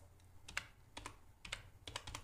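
Keys on a computer keyboard tapped in quick short bursts while typing a browser search, close and fairly quiet, with no talking.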